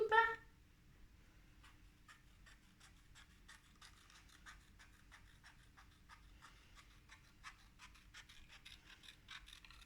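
Scissors cut out a rounded paper shape for a handmade mini album, a series of faint, quick snipping clicks in a steady run over a quiet room, preceded by a brief voice.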